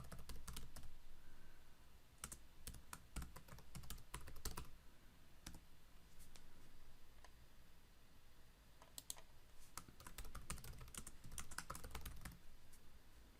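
Steady typing on a computer keyboard, with quick runs of light clicking keystrokes broken by short pauses, close and fairly quiet with no talk.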